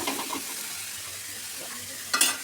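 Cabbage being fried with spices in a pan, a steady low sizzle with faint stirring and a brief scrape near the end, close and quiet.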